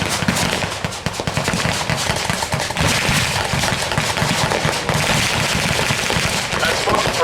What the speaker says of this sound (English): Looks like the Germans are laying down mortar fire.